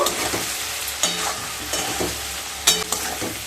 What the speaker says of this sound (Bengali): হাফ চামচ হলুদ গুঁড়ো দিয়ে আবারও খুব ভালোভাবে মিশিয়ে নেব